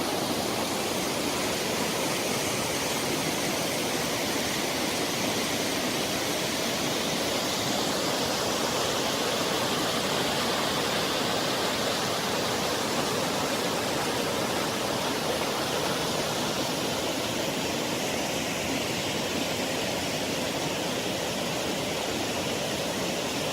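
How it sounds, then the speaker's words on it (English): A mountain waterfall below Second Geraldine Lake in Jasper National Park roars without a break, a dense, even rush of falling water that stays loud and close throughout, with no voices. "And here's your waterfall."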